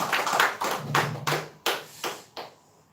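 Congregation clapping during a Thanksgiving Sunday church service: a short run of about seven loose, separate claps and bursts that thin out and fade toward the end.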